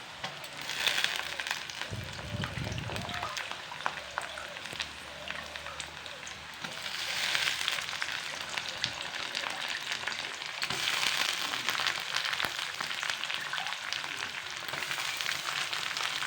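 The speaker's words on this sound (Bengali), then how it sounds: "পেঁয়াজগুলোর সাথে ওটিকেও এখন ভালো করে লাল লাল করে ফ্রাই করব" Mushrooms and onions fry together in a pan, a steady crackling sizzle that swells and eases in waves as pieces are stirred, with a brief low clatter near the start.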